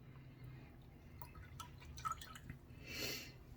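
Water drips close by from a wrung-out Lutin Brushworks badger shaving brush loaded with distilled water, over a Lancaster bowl: quiet scattered drops and trickles, ending in a brief fuller splash.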